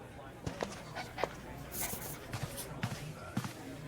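A dog pants and whimpers in the video game Dispatch, with soft breathy bursts and short whines scattered across a few seconds alongside thumps and shuffling, mixed under talk.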